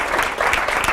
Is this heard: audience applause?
yes